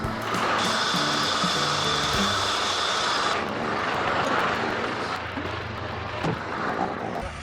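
A Land Rover winch hauls trees out of the ground with a loud, continuous whining motor that steps down in pitch partway through and keeps straining throughout.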